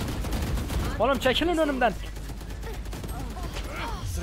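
Rapid bursts of gunfire crackle through a Valorant match, sharp repeated shots scattered under someone shouting excitedly in Turkish.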